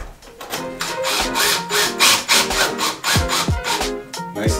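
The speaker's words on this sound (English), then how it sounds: "I know that there are laths behind that I'm screwing into" Screws driven by hand through a wall into the wooden laths behind it, a steady rasping, grinding rhythm of repeated strokes, close and loud with no talk.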